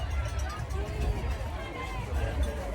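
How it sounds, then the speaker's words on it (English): Dense crowd noise along the London Marathon route near the Brunel pub and Rotherhithe station, around the 11 mile marker: a steady, loud wash of cheering and babble from spectators lining the street as runners pass, continuous throughout. "the crowd's gone mental here"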